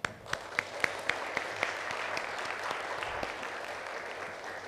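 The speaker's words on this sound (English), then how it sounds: "Why don't everyone here give yourself a big hand for graduation that is coming?" Applause from a large audience at a graduation information session, opening with a few distinct sharp claps before swelling into a steady, dense wash of clapping.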